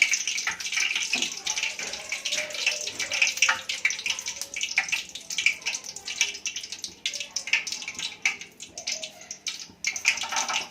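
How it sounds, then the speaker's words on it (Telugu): Curry leaves fry in a pan with oil as they are stirred up and down while a bottle gourd snack mixture is being made, giving a loud, continuous crackling sizzle that rises and falls with the stirring. "ఇలా పైకి కిందికి తిప్పుతూ వేయించుకోవాలి కరివేపాకు"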